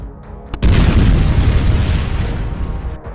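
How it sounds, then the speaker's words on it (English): A kamikaze FPV drone strike on a Russian infantry convoy ends in one loud, close boom that bursts suddenly and rolls away in a long, heavy rumble. "the video clip usually ends with an impressive explosion"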